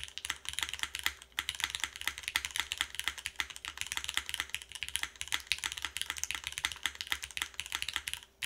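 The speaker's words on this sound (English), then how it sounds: "Keyboard still sounds fantastic though." A custom mechanical keyboard being typed on with rapid, crisp, evenly paced clacks, close and clear, alone with no talk.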